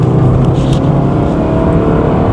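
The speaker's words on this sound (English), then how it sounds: "Engine sounds lovely." A Honda Jazz engine revs from inside the car, a loud, dense, steady hum with a rich low drone and no pauses, heard alone for a couple of seconds.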